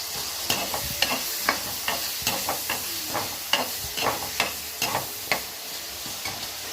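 Onions sautéing in oil in a pan for a Tamil elephant foot yam curry, a soft steady sizzle broken by regular scraping stirs of a spoon, close and unvoiced.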